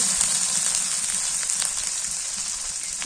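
Onion paste sizzles steadily in hot oil in a pan, frying alongside chilies for a home-cooked tilapia and Malabar spinach curry; a continuous close, crackling hiss with no voices.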